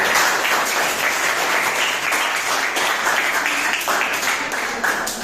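A school audience at an interhouse debate gives a steady round of applause, many hands clapping continuously at an even level for several seconds.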